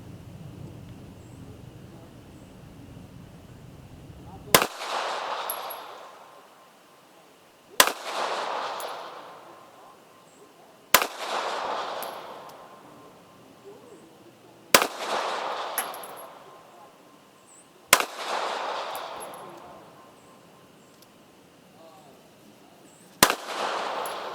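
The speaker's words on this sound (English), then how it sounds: "I'm going to start off target on the left with the Ppyou factory ammo." A Taurus Spectrum pistol fires factory ammunition at an outdoor target, six sharp, loud shots spaced about three seconds apart, each followed by a brief echoing tail.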